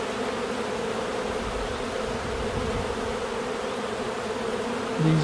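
A dense, steady buzzing of many bees in a hive during an inspection, close and continuous, with a faint brief bump near the end.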